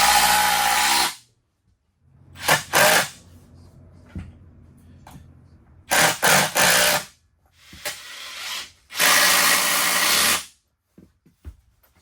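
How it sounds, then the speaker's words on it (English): A power drill drives screws into a small framed wall in a mobile home renovation, in short, loud whirring bursts of about one to two seconds, separated by quiet gaps and faint handling noise. "We're just going to go ahead and use screws to put it together."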